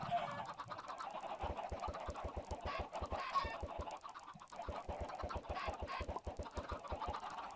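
Chickens in Minecraft cluck softly while a steady run of regular footstep thuds plays beneath them, the clucks faint and intermittent.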